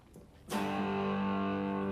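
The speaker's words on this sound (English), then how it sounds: "It's a fuzz pedal." A single guitar chord struck through a fuzz pedal rings out after a brief quiet moment, thick and buzzy with saturated, sustained distortion.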